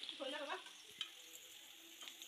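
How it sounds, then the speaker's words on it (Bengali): Beaten egg fries quietly in a pan, giving a faint, steady sizzle with a few soft scrapes and a light clink, and no voices. "গুলিয়ে নিয়ে এবার ভেজে নিচ্ছি ডিমটা"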